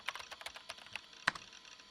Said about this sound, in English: I sat down and began to type at the keyboard.